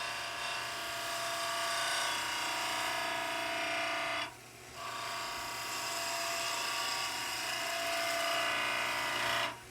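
Wood being cut on a lathe with the heel of a Crown Cryo turning chisel, a continuous close whirring hum with a steady buzz that drops out briefly midway and then resumes.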